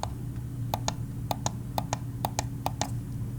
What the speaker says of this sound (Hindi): जेब्रॉनिक्स ग्रूट का लेफ्ट क्लिक